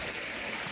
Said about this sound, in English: We got a beautiful spot here on the waterfall